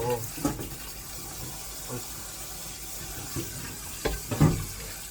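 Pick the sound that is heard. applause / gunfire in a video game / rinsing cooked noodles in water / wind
rinsing cooked noodles in water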